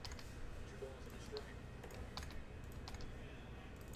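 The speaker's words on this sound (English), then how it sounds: "I don't know why my keyboard's not working here." Someone types on a computer keyboard, producing soft, scattered key clicks over a steady background hum, with no clear voices.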